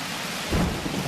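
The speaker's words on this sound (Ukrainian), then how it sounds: "Дощ ставав усе сильнішим і сильнішим." Heavy rain pours down steadily with a deep roll of thunder swelling in the middle, loud and close, with no voices.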